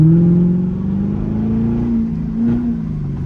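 A Corvette engine revs up and drops through downshifts, its droning pitch sliding and rising again with a short blip near the end, loud and close with no talk over it.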